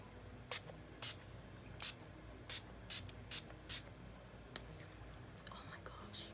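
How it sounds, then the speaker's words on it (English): Several short, bright bursts of facial setting spray hiss, evenly spaced over a quiet background, close and fairly loud against soft room tone. "I'm gonna take some setting spray and"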